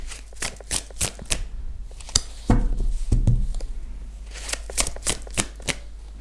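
Playing cards riffle-shuffled and dealt in a run of crisp flutters and snaps, a denser burst of shuffling in the middle, close and clear with no talking.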